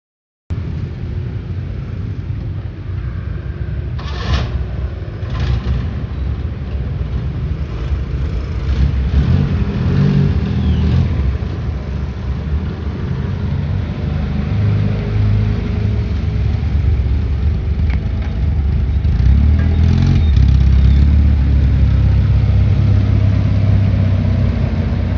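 A 1973 Datsun 220C turbo diesel sedan engine running while the car backs up, a low steady diesel rumble close by that grows somewhat heavier toward the end, with faint clanks in the background.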